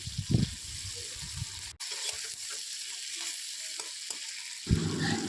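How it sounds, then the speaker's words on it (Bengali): Prawns sizzle lightly in hot oil in a home kitchen, a steady fizzing hiss with stirring clatter, broken by a brief pause and a few louder low bumps from the pan. "চিংড়ি মাছটা কিছুক্ষণ ভেজে নেবে। অবশ্যই হালকা করে ভাজবে"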